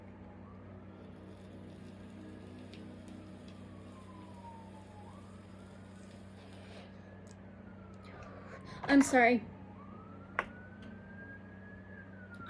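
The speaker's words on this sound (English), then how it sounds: "It's an ambulance." A faint ambulance siren wails up and down in the distance over a low steady hum, with a brief spoken remark partway through.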